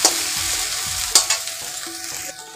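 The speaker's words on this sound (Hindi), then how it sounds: "यहाँ पर देखिए प्याज अभी भुना रहा है" Onions fry in a pan, crackling with a busy sizzle while a utensil stirs and scrapes against the metal in several short knocks, close and clear with no talking.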